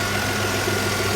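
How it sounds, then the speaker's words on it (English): A Vauxhall Vectra GSi engine idles steadily with the power steering pump running, a close, even mechanical hum and vibration with no talk. "So I've just got the engine running so that the pump is running"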